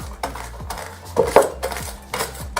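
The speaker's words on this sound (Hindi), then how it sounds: "अब इस गिलास की मदद से हम धीरे धीरे इस मिर्ची को इस तरीके से चॉप करेंगे।" Green chillies are chopped by turning a glass inside a container in a home kitchen, giving repeated clinking, scraping knocks of glass against the vessel in an uneven rhythm, close and clear with no talk.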